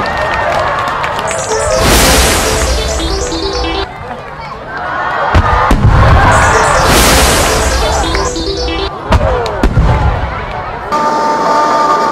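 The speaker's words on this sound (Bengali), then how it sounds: "আতশবাজি" Fireworks bursting during a Durga Puja celebration, loud booming cracks repeating every few seconds over a noisy crowd with voices talking nearby.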